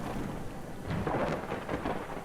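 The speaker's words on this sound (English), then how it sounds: "another thunderstorm is coming in" A thunderstorm in the god game Universim, with a low rolling rumble of thunder over steady rain hiss, loud and continuous with no voices.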